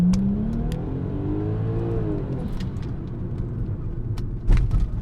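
An Audi B5 S4 with an SSAC Twin 1 exhaust, heard from inside the car, winds up under wide-open throttle in a deep, steady drone that rises in pitch, with a few clicks and a thump near the end.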